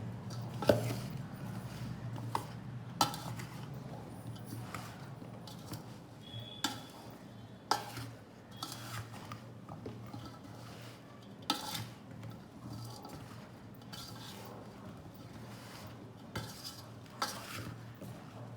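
Mango avakai pickle being mixed in a bowl: repeated soft clinks and scrapes of a spoon against the dish at an irregular pace, quiet and close over a low background hum.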